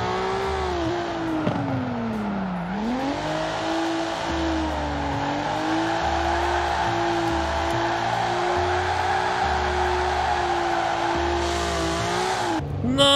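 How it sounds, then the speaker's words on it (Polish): A car driving and drifting in the racing game Forza Horizon 4, a steady engine drone that dips and rises with throttle, tire squeal woven through, loud and continuous without speech. "udało się całkiem ładnie poprowadzić samochód"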